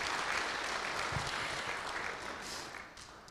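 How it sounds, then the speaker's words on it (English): An audience at an Irish Benevolent Society of London event applauds, a dense wash of clapping from a crowd in a hall that gradually thins and fades toward the end. "give yourselves a round of applause."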